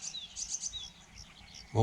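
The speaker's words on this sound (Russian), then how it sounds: "слушать эти звуки, наблюдать, как летают птички, как квакают там лягушки." Small birds chirp outdoors in a few quick, faint high tweets, followed by a short low thump at the end.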